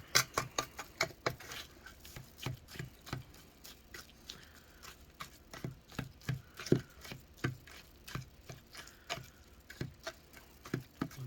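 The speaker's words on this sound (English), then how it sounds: "Okay, let's stir this one in." A spoon stirs toppings into a cup of Chobani Flip yogurt, making a steady run of quick, close clicks and light scrapes against the cup, with no talking.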